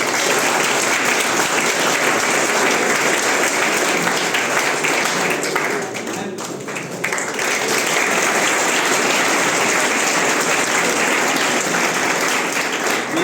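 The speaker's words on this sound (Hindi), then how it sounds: "सभी लोग जोरदार तालियों से उनका स्वागत करेंगे।" Loud, sustained applause from a crowd, including students, welcoming Padma Shri awardee Dr. M.C. Dawar at an engineering college ceremony. Dense clapping runs throughout, dipping briefly midway before resuming at full strength.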